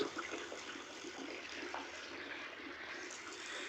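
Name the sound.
water running to fill a house water tank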